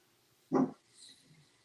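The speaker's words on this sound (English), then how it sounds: "And the dogs are noisy now. They want to go out." Dogs eager to go outside let out one short, fairly faint bark indoors, followed by softer whining or rustling sounds at a distance.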